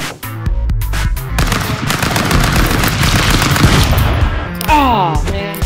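Rapid pistol gunfire from the video game Stick Fight rattles out as a dense, loud burst of overlapping shots lasting several seconds, with game sound effects and brief tonal chirps near the end.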